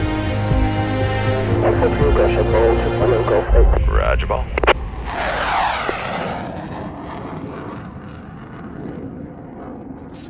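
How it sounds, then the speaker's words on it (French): A LATAM Airbus A320 jet takes off from runway 16 with a broad, steady engine roar that swells and then eases as it moves away. A voice is faintly audible in the background. "L'Airbus A320, le LATAM, il vient donc décoller de la piste 16"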